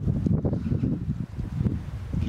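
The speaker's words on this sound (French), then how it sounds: "ah ça y est, le vent se lève" Gusty wind buffets the microphone outdoors as a thunderstorm builds in Luxembourg, a low rumbling roar that rises and falls in uneven surges without any speech.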